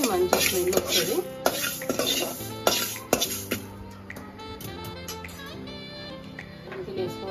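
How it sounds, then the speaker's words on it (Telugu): Fenugreek seeds roasting in a pan for a fish curry, with repeated metallic clinks and scrapes of a spoon stirring against the pan, sharp and close, softening toward the end. "1 స్పూన్ మెంతులు తీసుకోవాలి. ఇవి మంచిగా వేయించుకోవాలండి."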